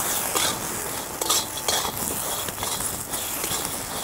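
Roasted green chillies with salt for thecha are stirred on a hot griddle, giving quick scraping strokes and a light sizzle, close and steady with no talking.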